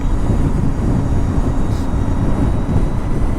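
A Harley-Davidson LiveWire ONE electric motorcycle accelerating hard, a loud continuous rushing drone of wind and motor whine that holds steady throughout without any speech.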